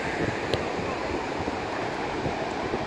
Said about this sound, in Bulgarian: И това е океана.